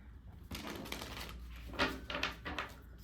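Soft papery riffling and shuffling of cards in a few quick bursts, close by, in a quiet room with no talking.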